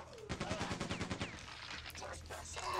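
Machine gun fire in Quake 2 Remastered: a rapid, loud burst of evenly spaced shots lasting about a second, followed by fainter game effects and background clatter.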